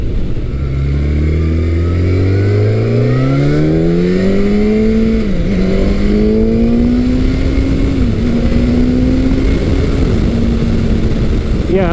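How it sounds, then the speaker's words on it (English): A Gen 2 Yamaha FZ1 motorcycle accelerates hard, its engine note climbing steadily through the revs with brief dips at gear changes, loud and close throughout. "as soon as you crack the throttle, this thing goes, especially if you have it a little bit higher in the RPM"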